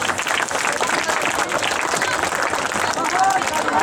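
A school audience at the Ryan Fiesta in Raebareli applauds: dense, continuous clapping from a crowd, close and loud throughout, with voices mixed into the noise.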